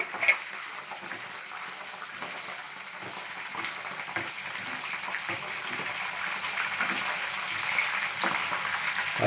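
Chicken pieces fry in a pan of hot oil with curry leaves and slit green chillies for a crispy green chilli chicken fry, a steady bubbling sizzle that crackles continuously and grows slightly louder toward the end, with no voices.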